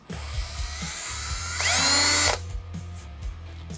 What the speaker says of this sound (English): Drill the 1/8-inch pilot hole first.